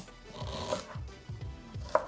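Peeled ginger is sliced thinly with a knife on a board, giving a few soft, close cuts in a quiet room with gentle rhythmic taps and scrapes.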